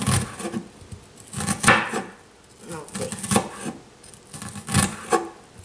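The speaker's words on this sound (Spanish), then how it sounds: "seguimos con la cebolla y lo que le estoy dando unos cortecitos así" A knife finely chops onion for chimichurri salsa, with quick clusters of crisp cuts against a board separated by brief pauses, close and fairly clear.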